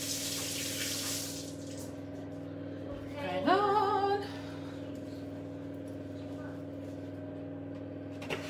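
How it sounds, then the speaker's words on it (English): A kitchen tap runs for about a second as hands are rinsed, a short, fairly close splash of water over a steady low hum, with talking around it. "Oh, I'm gonna rinse my hands."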